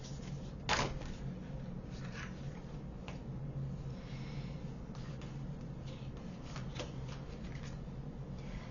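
Playing cards are shuffled and drawn for a pick-a-card reading, giving a few soft, close riffles and flicks against a quiet room background, with one sharper shuffle near the start.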